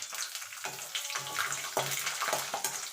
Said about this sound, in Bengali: এখানেও কিছুটা বাদাম ভেজে নেব।